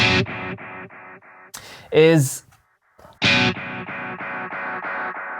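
An electric guitar note repeats through a Jeff Loomis Devil's Triad pedal's delay, reverb off, in a string of fading, evenly spaced echoes. A brief spoken interjection comes in, then another echoing phrase follows.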